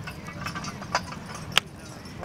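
Horses' hooves clop on the ground at a horse pull in Gouverneur, New York, giving a few faint, irregular knocks, one sharper than the rest, over low outdoor background noise.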